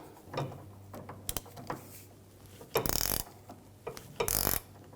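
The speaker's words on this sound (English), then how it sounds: "15mm ratchet wrench. Makes it a little easier." A ratchet wrench with a 15mm socket snugging down a front sway bar link on a 2006-2010 BMW 550i, giving short bursts of rapid clicking close by with brief metallic taps in between, and no talking.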